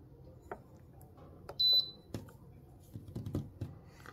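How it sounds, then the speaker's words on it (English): Pressure cooker control panel being set for boiling eggs, with soft button taps and clicks around a single short, sharp electronic beep, close and quiet apart from the beep. "Just put the timer down,"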